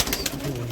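Tumbler pigeons cooing inside a coop, a low soft coo rolling under a brief bird call, close and fairly steady over a short moment.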